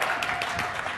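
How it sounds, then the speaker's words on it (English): Audience applause at a Microsoft Management Summit 2012 keynote on Configuration Manager, a dense steady wash of clapping throughout, loud and close. "That always gets applause."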